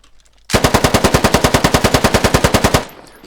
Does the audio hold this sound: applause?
no